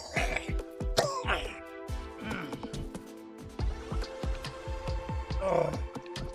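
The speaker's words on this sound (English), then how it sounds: "Coughing's making me dizzy." Repeated harsh coughing and throat clearing from one person, a series of rough bursts close to the microphone over several seconds, with a little voice mixed in.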